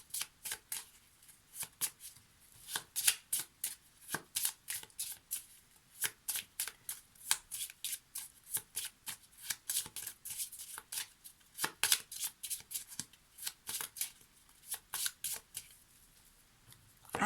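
Tarot cards being shuffled for a card reading, a steady run of crisp riffling bursts repeating in quick rhythm, close and clear, with no talk.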